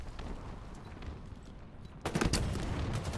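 Rocket launcher fire in a Halo competitive match, heard as two sharp booming blasts that open loudly around the midpoint over steady game noise, with no talk in the clip.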